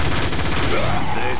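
Dense, loud gunfire in Transformers War for Cybertron, a continuous blur of blasts and weapon noise with no distinct gaps between shots.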